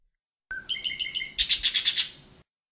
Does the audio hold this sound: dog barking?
no